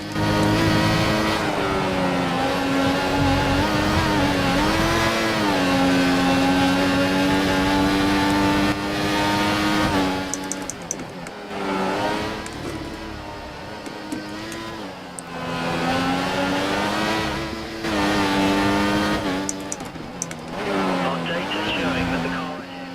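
Race car engines roar and whine continuously in a racing video game set at the Belgian Grand Prix, loud and rising and falling with gear changes, and voices talk over them.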